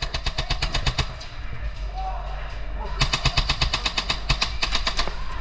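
Airsoft guns firing in rapid bursts during an outdoor airsoft game, loud and close, with long rattling strings of shots, a brief pause, then more sustained fire.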